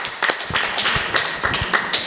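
A church congregation claps hands during praise, sharp overlapping claps in a loose rhythm, about eight distinct bursts, close and fairly loud, with no voices.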